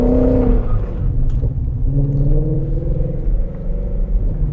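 A 2017 Ford Shelby GT350 engine drones loud and close, a steady low rumble with rising revs as the car drifts, running unbroken throughout.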